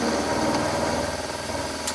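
A milling machine cutting a slot in an engine part clamped in a vise for a Webster engine build, producing a steady, close mechanical hum and whirring buzz with fine rhythmic chatter and no talking.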